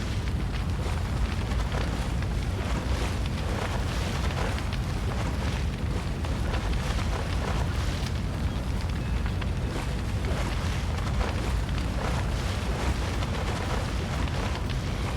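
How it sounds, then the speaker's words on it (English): A burning ship in the Divinity: Original Sin video game, a dense continuous crackling roar of fire that stays loud and steady throughout with no voices. "The ship's blazing ever higher!"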